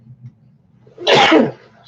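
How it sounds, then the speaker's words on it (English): A single sharp human sneeze bursts out after a moment of near silence, close and loud, fading quickly. "Sneeze."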